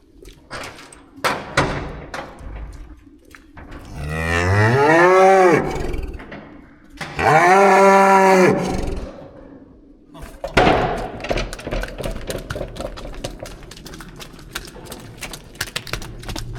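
Farm cows moo loudly on a herd farm, two long drawn-out calls in the middle of the stretch, surrounded by clattering and knocking sounds of handling in a shed.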